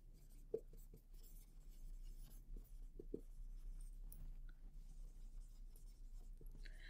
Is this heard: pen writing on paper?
yes